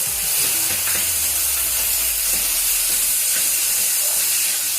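Tomatoes tipped into onions frying in hot oil for Marathi-style dal tadka give a steady, loud, close sizzle and hiss that fills the whole stretch without a pause.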